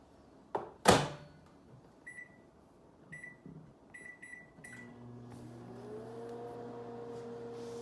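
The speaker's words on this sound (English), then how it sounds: "We're gonna microwave these ramen noodles real quick like in that butter spread" A microwave oven heating ramen noodles in butter spread and beer: a thunk and door clatter, a few short beeps, then a steady low hum with rising tones as it runs alone.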